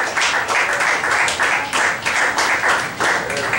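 An audience applauds a deacon at a lively church-style gathering, a dense round of clapping pulsing in short swells at a steady, fairly close level.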